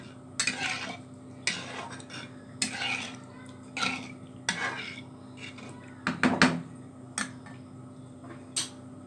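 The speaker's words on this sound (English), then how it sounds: "So you have to mix all these ingredients together." A spoon mixes egg curry gravy ingredients in a pan, with repeated scraping strokes and metal clinks roughly every second and a faint frying hiss underneath. Close and with no talking.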